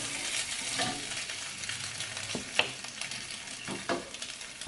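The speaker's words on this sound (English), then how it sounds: "Okay, so we're gonna stir, stir, stir, stir, stir." Spicy tempeh sizzling in a frying pan, a constant bright crackle with a few soft scrapes as it is stirred, close and alone.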